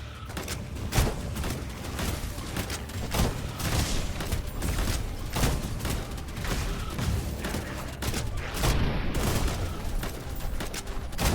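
Video game combat in the action RPG roguelite Shape of Dreams, with dense, continuous bursts of booming enemy explosions and crackling effects layered over game sounds, loud and unbroken throughout.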